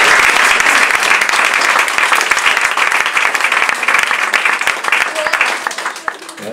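A French audience at a film presentation applauds loudly and continuously for several seconds. Dense, close clapping with crowd murmur and voices mixed in gradually thins toward the end.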